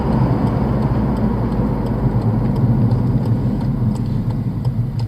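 A Toyota Yaris rolls past on a road as a steady, loud mid-range engine rumble and tyre roar, holding fairly even throughout with no talking over it.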